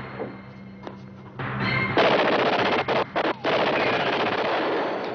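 Machine gun fire in a film scene, Uzis unloaded at close range: loud sustained automatic bursts, broken by a couple of brief pauses, that build into a continuous roar of gunfire.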